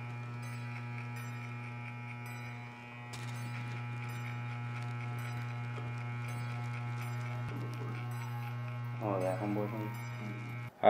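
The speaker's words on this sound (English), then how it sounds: "just taking each of these notches up just slightly, using mainly the corners of the clipper" Electric hair clippers cutting a men's fade with the corners of the blade, a steady close buzz that lifts slightly partway through, with a brief voice near the end.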